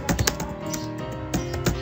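Fingers tap quick, close clicking keystrokes on a computer keyboard while typing in a word processor, in short uneven bursts.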